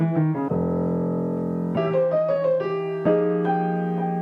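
A short riff is built from chopped sample chords, with sustained harmonic stabs changing every second or so and a steady low bass underneath. It plays clean and alone with no talking.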